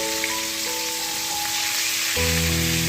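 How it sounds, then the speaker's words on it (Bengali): Fish fries in hot oil with a continuous crackling sizzle, close and fairly loud, with a steady hum of background tones underneath. "নতুন রাঁধুদের জন্য রান্নাঘরে মাছ ভাজার টিপ"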